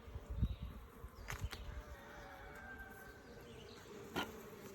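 Carniolan honey bees buzz in a faint, continuous drone during a hive inspection, with a few soft knocks and handling sounds near the start.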